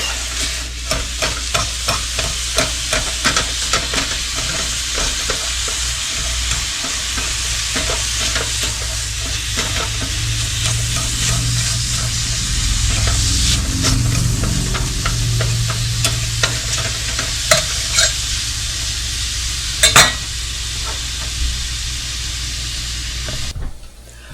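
Hamburger meat and vegetables sizzle loudly in a hot pan while a utensil stirs and scrapes, with frequent sharp clicks and taps over a steady frying hiss, close and continuous.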